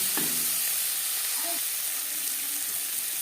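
Sliced tomato dropped into a pan of frying onions, a steady hiss and sizzle with a short clatter at the start, close by and even in level.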